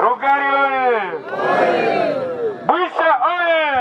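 An enthusiastic outdoor crowd at a chief's installation in Rutshuru territory, DR Congo, lets out loud sustained ululating cries and cheers close by, in several rising and falling bursts with a short lull in the middle.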